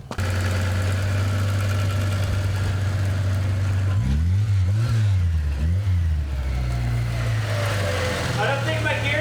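A Ford Festiva engine running with gears not working, a loud, close idle that climbs into repeated revs midway, then settles into a rough, steady drone.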